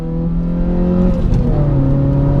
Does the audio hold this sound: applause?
no